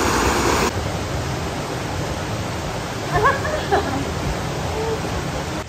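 Blue river water rushing beside an alpine trail in Slovenia, a steady broad wash of flowing water filling the background while a person talks briefly over it.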